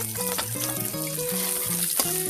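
Garlic sizzling in oil already used for frying fish, a steady bright crackle over a melodic tune playing underneath.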